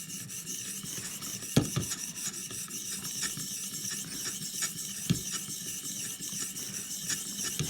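An Ontario Rat 1 knife is drawn across a ViperSharp sharpening stone in steady, light gritty strokes, close and fairly quiet, with a few soft knocks between passes.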